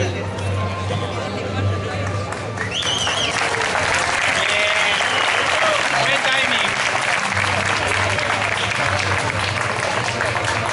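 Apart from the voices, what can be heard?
audience applause at graduation ceremony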